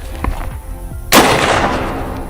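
A .308 rifle fires a single loud, sharp shot into stacked cardboard boxes, followed by a long rumbling decay. A few faint clicks and bumps come just before it.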